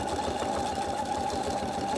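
Sewing machine stitching free-machine appliqué embroidery around a curve on a campervan design, a loud, close, continuous motor hum with a rapid needle rhythm throughout.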